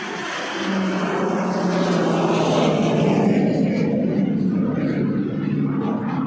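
A loud airplane roars close overhead near an airport, its engine drone swelling and holding steady throughout, with no talking.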